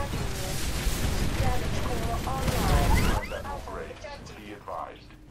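Grenade and missile explosions in the Titanfall campaign rumble in loud, dense bursts for about three seconds, then drop to quieter scattered impacts, with someone talking over the action.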